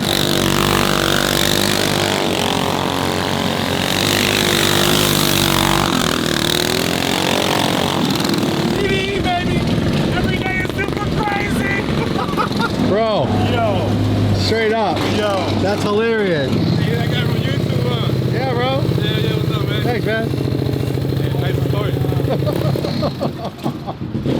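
A straight-piped Porsche 997 rumbles and revs loudly and up close, its exhaust blaring throughout with rising and falling engine pitch, while people talk over it.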